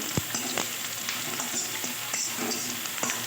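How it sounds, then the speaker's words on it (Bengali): Dry red chillies, bay leaves and whole spices temper in hot oil, sizzling steadily up close while a spatula taps and scrapes the pan at irregular intervals. "দিলাম শুকনো লঙ্কা তেজপাতা আর ফোড়ন"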